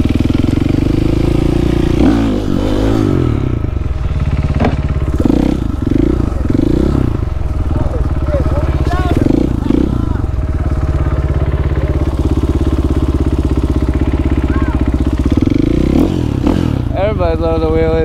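Motorcycle engine held at a steady loud drone while the rider pulls a wheelie, with repeated revving surges and some clatter, close and continuous throughout.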